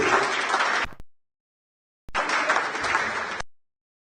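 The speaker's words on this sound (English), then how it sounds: "I see you giving a round of applause to Dr. Awosuse" Applause from an audience at a university training programme, a dense round of clapping that cuts out abruptly, goes silent, then resumes for another burst before stopping again.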